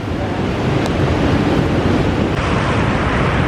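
Ocean waves break and wash onto the beach at Sandsend on the North Yorkshire coast, a continuous broad roar of surf mixed with wind buffeting the microphone, with no voices.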